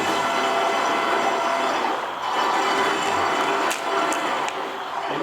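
A PurePressure Axis trichome separator runs at 50 RPM with a steady, close mechanical whirring hum and a few brief high squeaks partway through.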